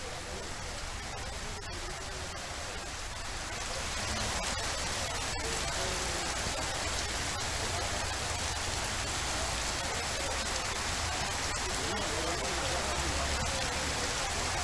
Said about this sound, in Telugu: హైదరాబాద్ లో వర్షం దంచి కొడుతోంది.